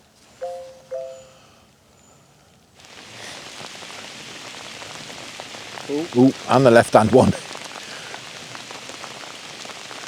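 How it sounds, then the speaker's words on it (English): Steady heavy rain pours down at dusk on the River Wye, drumming on surfaces, with a brief voice and a couple of tones at the start and louder splashing bursts midway. "it has chucked it down with rain as it started to get dark"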